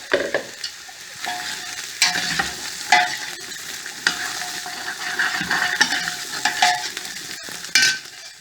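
Ginger and onions fry in a pan over a fire, giving a steady close sizzle broken by repeated scraping stirs and clattering of a utensil.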